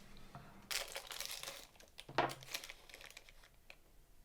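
A knife cuts through a browned plant-based cornbread, giving crackly, crumbly bursts in two separate strokes, close and fairly quiet with no talking.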